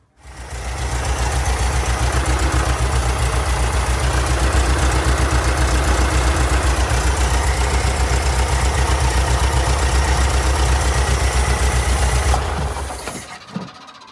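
A 1974 VW Karmann Ghia Type 14 engine runs at a steady, loud idle with a dense rumbling drone, then cuts out abruptly near the end.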